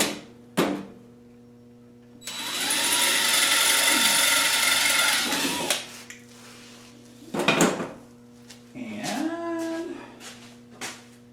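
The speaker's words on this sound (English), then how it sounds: "I'm drilling the number 25 tap screw holes." Close mechanical whirring and grinding as a tap cuts number 25 screw holes into pre-drilled thin metal on a go-kart, one long run and a few shorter bursts, with a steady hum underneath.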